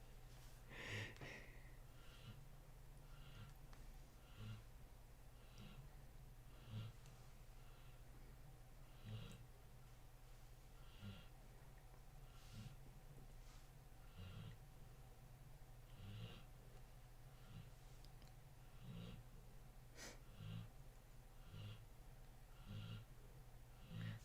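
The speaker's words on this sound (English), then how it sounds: "If you hear the snoring in the background, that's my dog." A dog snores faintly somewhere in a quiet room, soft rhythmic snorting breaths repeating every couple of seconds beneath a low steady background hum.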